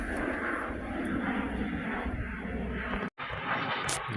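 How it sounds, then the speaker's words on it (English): Jet aircraft passing overhead above a garden in December, a steady loud broadband roar with low engine rumble that holds for several seconds, briefly cut out, then resumes. "Jet flying by."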